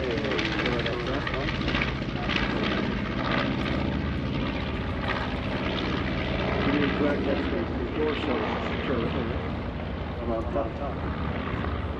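A World War II B-25 bomber flies a photo pass at an air show. Its loud, steady piston-engine propeller drone rumbles continuously throughout, with announcer talk heard alongside.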